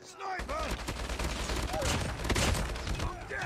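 HBRa3 rifle hip fired in Call of Duty Mobile, a dense rapid burst of gunshots with impacts, loud and continuous across the moment, with a voice talking over the shooting.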